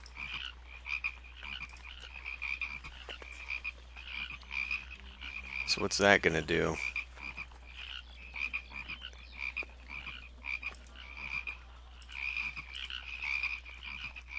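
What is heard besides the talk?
croaking frogs from Plague of Frogs in Pharaoh: Cleopatra video game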